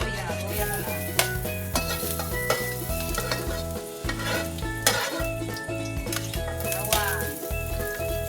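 Onion, garlic and ginger sizzle loudly in a pan for Bisaya-style chicken in coconut milk, with steady crackling frying, repeated scraping stirs and occasional metallic utensil clinks close by.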